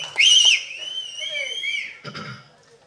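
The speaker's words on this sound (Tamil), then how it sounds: "இவ்வளோ பேருக்கு கைத்தட்டி விசில் அடித்து கொண்டாடுறீங்க" Shrill audience whistles ring out at a Tamil film event, with one loud, sustained whistle near the start followed by long, gliding whistle tones and a brief burst of crowd noise near the end.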